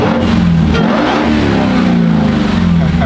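A powerful supercharged 6.2-liter Hellcat V8 in a 6x6 Hummer revs loudly and close, its growl rising and falling in sustained bursts.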